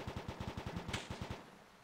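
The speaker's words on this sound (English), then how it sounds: "I think there's a lot of gunshots I can hear." Automatic gunfire in the video game ARMA 2, a rapid steady burst of about a dozen evenly spaced shots with a sharper crack partway through, then a fading tail, fairly faint and with no talk.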